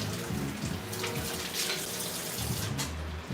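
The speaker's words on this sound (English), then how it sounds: "Rinse this out." Water runs steadily from a kitchen sink tap while something is rinsed out, a continuous splashing rush with slight fluctuations, close by and heard without talking.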